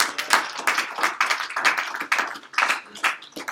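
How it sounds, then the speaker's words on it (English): Audience applause for contest winners of a Bahamas trip at a sales event, a dense patter of many hands clapping at close range for several seconds without talk. "if we could give our Bahamas winners one more round of applause"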